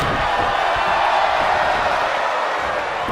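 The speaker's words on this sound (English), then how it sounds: "Maybe it's just this ruckus crowd." A rowdy crowd at a wrestling match roars and cheers in a dense, unbroken wall of noise. Scattered shouts and voices blend into the steady din.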